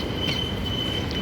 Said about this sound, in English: Start off with a Perth service leaving platform number 1.